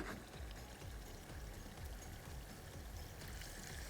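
Water is poured from a jug into a pot of nihari, a steady, continuous splashing gush that stays even in level throughout, with no talk over it.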